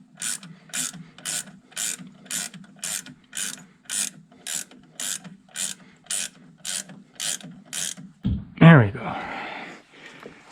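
A ratchet wrench clicks through a dozen even, rhythmic strokes while tightening front brake caliper bolts, close and distinct, followed by a brief loud clunk at the end.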